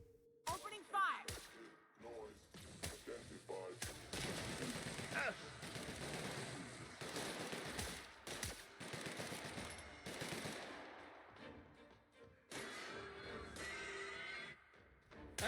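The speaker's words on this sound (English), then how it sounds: "Opening fire!" Sustained video-game gunfire from The Outer Worlds: Spacer's Choice Edition, rapid bursts and dense volleys rattling almost continuously, loud and close, with brief lulls around the middle and a renewed burst near the end.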